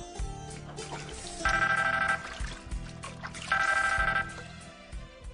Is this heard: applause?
no